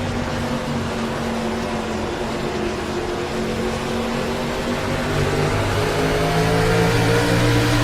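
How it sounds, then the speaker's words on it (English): A race car engine in the iRacing sim, heard on board at New Hampshire Motor Speedway heading into turn one, gives a loud, steady droning roar that swells slightly toward the end, with no talk over it. "as you ride on board with the Alex McCollum machine down into corner number 1"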